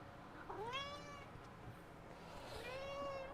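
A house cat meows twice in a quiet room, each call a clear rising-then-falling cry, the second slightly longer, heard close with faint room noise underneath.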